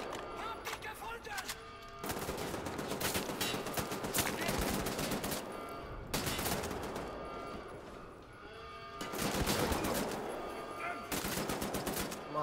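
Rapid automatic gunfire from the first-person shooter Wolfenstein: The New Order, loud sustained bursts separated by brief pauses, with someone talking over parts of it.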